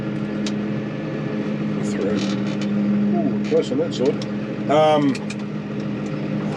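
A tractor drives through a roughly 13-foot paddock gateway onto lightly rain-dampened ground, its steady engine drone continuous throughout with a louder mechanical surge near the end, while someone talks over it.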